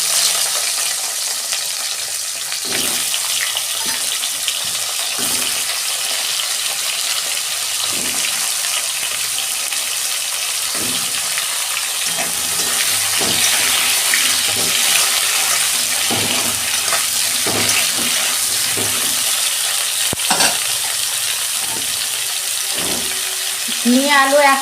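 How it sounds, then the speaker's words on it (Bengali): Ridge gourd and potato fry together in hot oil, giving a steady sizzle throughout with occasional stirring clinks and knocks, and no voice on top of it. "ঝিঙে আলু একসঙ্গেই আমি ভেজে নিচ্ছি।"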